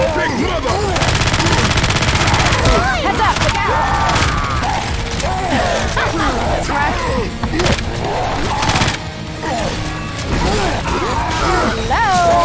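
Heavy, continuous gunfire aimed at the Tank in Left 4 Dead 2, with rapid shots layered under excited voices, clattering mechanisms and booming impacts, loud and close throughout.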